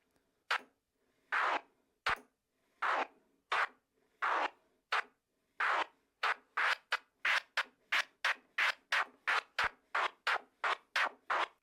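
Record scratching chopped in a rhythmic pattern, slower strokes first, then rapid regular bursts cut cleanly by a crossfader, close and alone.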